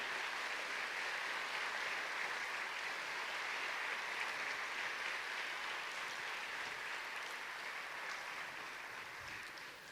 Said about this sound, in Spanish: Dale un fuerte aplauso, es palabra de Dios.